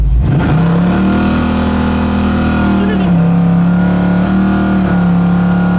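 A 1976 Pontiac Trans Am with an engine rebuilt by AAMCO pulls down the road, its loud, steady engine drone rising in pitch as it accelerates, then dipping and climbing again through gear changes, heard from inside the car.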